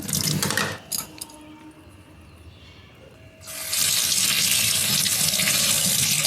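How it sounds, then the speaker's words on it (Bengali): Tap water runs loudly into a sink as a tomato and green chillies are rinsed under the stream, a strong rushing flow that drops to a quieter trickle midway, then surges back to a steady full gush. "এবার টমেটোটাও ধুয়ে নিচ্ছি আর কাঁচা লঙ্কাও ধুয়ে নেব"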